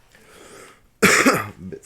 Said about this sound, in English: A bit sick here too, so expect coughing.